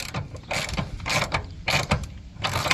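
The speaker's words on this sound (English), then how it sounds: "Locate the exposed thread of the seatbelt bolt, thread, coupling, nut onto the thread in the bolt, tighten the coupling nut." A coupling nut is ratcheted tight onto a seatbelt bolt while Maxmate nerf bars go onto a Ford F250, giving close, repeated ratchet clicks in quick bursts with short pauses between.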